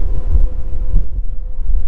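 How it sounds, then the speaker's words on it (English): Wind blowing over a sailboat moored along the Pacific coast, producing loud, continuous low buffeting and rumble across the microphone, with no voices. "When I woke up, the wind started."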